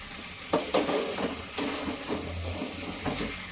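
Chicken pieces being stir-fried in a pan for a Bengali chicken curry, with a steady low sizzle under scraping and stirring, a few louder clanks of the utensil against the pan, and no talking.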